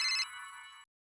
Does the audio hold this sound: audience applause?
no